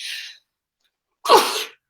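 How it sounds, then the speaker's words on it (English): A person with a cold gives a sharp, explosive sneeze, close and loud, preceded by a brief breathy intake and surrounded by silence. "I've got a cold. And I can't stop sneezing."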